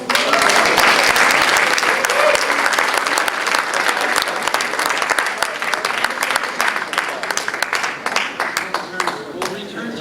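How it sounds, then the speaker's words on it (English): An audience breaks into loud, sustained applause during a magic and mentalism show, dense clapping that starts strong and slowly thins toward the end. "if it is, then I will graciously accept your applause"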